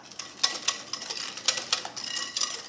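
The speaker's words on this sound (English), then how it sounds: "I have 2/3 cups of sugar in here, 2 eggs at room temperature, and half a cup of sour cream. We're just gonna mix this well." Sugar, room-temperature eggs and sour cream being mixed in a bowl for apple cinnamon bread, a quick series of close utensil clinks and scrapes against the bowl, fairly quiet with no talking.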